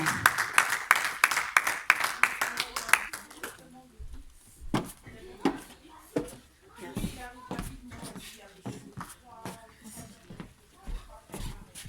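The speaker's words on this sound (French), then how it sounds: "On peut l'applaudir et l'encourager également." A conference audience at a women entrepreneurs' event claps for an arriving speaker, a dense burst of clapping that fades after a few seconds into shuffling, scattered claps and nearby talk.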